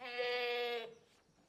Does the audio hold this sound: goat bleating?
yes